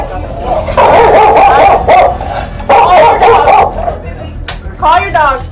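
A pit bull barks repeatedly during a police eviction, its sharp barks mixed with whimpers and yips, close and loud, while people talk over it.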